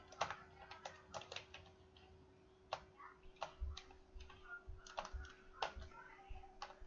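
Keys on a computer keyboard clatter as code is typed, with irregular quick clusters of light clicks and pauses between them, close and quiet over a faint steady hum.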